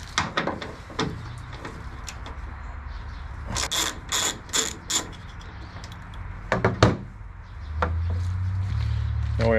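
Ratchet with a T50 Torx bit working a bolt loose during a tailgate assist install on a 2006 Ford F350, heard as clicking ratchet strokes in short bursts with mechanical clunks, up close and fairly quiet.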